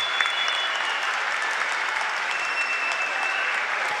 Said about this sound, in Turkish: Sancaktepe'de alkışları alıyor.